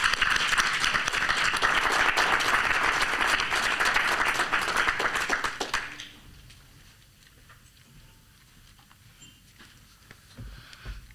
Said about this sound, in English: I think we should clap for our volunteers